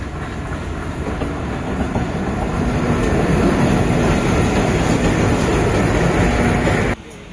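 Passenger train pulling out of Erode Junction on the Erode–Jollarpettai route, a loud steady rumble of wheels and carriages building in strength, then dropping suddenly near the end.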